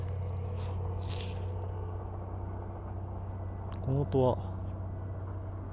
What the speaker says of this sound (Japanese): どっかの車の防犯装置が誤動作してる音? パーパーってなってます。